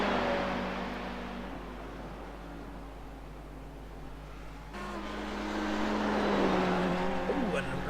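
GT3 race cars running downhill on the back straight at Oulton Park, their engines a faint, steady roar that swells as a car draws nearer, with a commentator talking over it.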